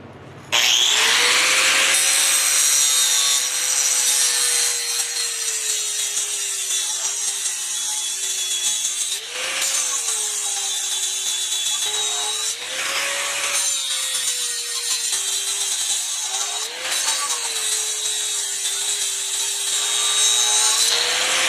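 An angle grinder whines steadily against the steel edge of a rusty railroad track being shaped into an anvil, its pitch dipping and recovering as the disc bites in several times.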